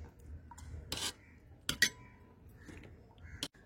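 A spoon stirs fermented rice with curd and salt in a vessel, giving a few scattered scraping clinks against a quiet background.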